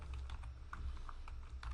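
Rapid, quiet clicking of a computer keyboard as a router's BGP configuration is typed, keystrokes in uneven bursts over a low background hum.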